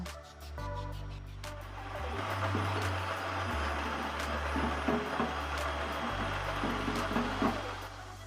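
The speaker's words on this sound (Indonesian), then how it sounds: "Lalu kita mixer dengan kecepatan sedang sekitar 8-10 menit sampai mengembang dan teksturnya itu kental." An electric mixer whips homemade ice cream base at medium speed, a steady low motor hum with shifting pitch steps and a mechanical whirring texture running continuously, no voices present.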